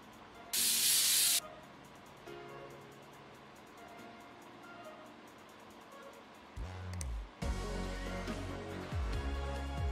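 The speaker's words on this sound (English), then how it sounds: "take our compressed air" A can of compressed air gives one short, loud hiss of spray while cleaning a PC in PC Building Simulator, followed later by quieter mechanical clatter and rumble.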